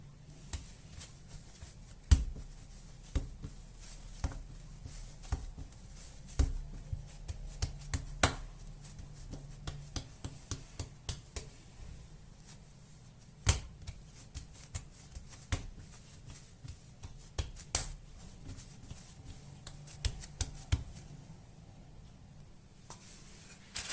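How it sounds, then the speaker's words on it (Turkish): Cookie dough being rolled out between sheets of foil paper, giving faint crinkling and rustling with sporadic sharp taps and clicks in an irregular rhythm, close and quiet, with no talking. "Folyo kağıtlarının arasına koyduk. Şöyle güzelce genişletelim, inceltelim."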